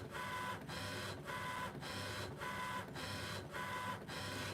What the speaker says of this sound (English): Just use the machine to do the writing for you.